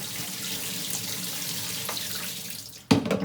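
Tap water runs steadily from a kitchen faucet in Canada, a fairly quiet continuous stream that ends with a sudden louder splash and clatter near the end, with no talking.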